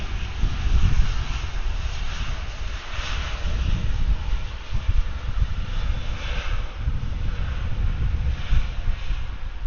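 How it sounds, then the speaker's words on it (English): An Airbus A321 bound for Baltimore takes off at Atlanta airport in a straight headwind, its engines a steady, loud broadband roar, with wind buffeting the microphone throughout. "here goes this A321 headed up to Baltimore"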